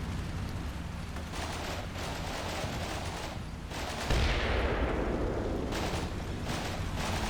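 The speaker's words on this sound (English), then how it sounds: "Might have been a secondary explosion from his BMP forcing these guys out of the building." In the Combat Mission: Shock Force 2 war game, a BMP infantry vehicle's secondary explosion booms, a deep blast swelling out of steady gunfire and rumble, with bursts of shooting continuing around it.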